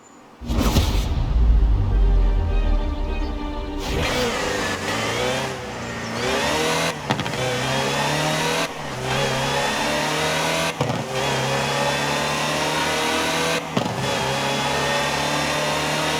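A Land Rover Series 3 engine drives in the racing game Forza Horizon 4, loud and close, with a hard rev at the start and then a steady drone through repeated gear shifts, each marked by a brief drop and climb in pitch.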